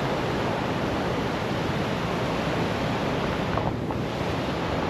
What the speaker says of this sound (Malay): Pantai Brunei geng.